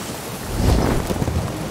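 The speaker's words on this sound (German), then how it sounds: "Okay, jetzt haben die Segel richtig Wind bekommen." Wind rushes into a sailing ship's sails in Sea of Thieves, a broad, steady roar with a low rumble swelling midway, mixed with a watery wash.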